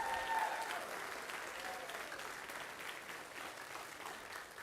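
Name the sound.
audience applause for school band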